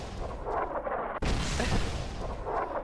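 Video game artillery fire makes a dense, roaring wash of rumbling blasts, broken by a sharp, heavy impact partway through.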